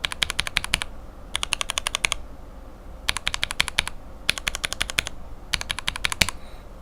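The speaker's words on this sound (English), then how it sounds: "this last one is the Gateron top that has a lens in it" Lubed mechanical keyboard switches with Cherry bottom housings and lensed Gateron tops, typed in five quick bursts of rapid, crisp clacks, close and clear with short gaps between bursts.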